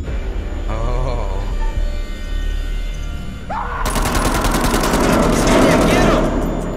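Video game gunfire heard during a multiplayer session with wired controllers, bursting into a dense, loud rapid-fire rattle partway through after quieter game sounds and tones.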